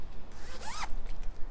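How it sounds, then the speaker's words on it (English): A single quick zipper pull opens a rear seat cover on a Jeep JL Wrangler or JT Gladiator, a brisk close ripping sound lasting well under a second. "Zipper, always unzipper the tops."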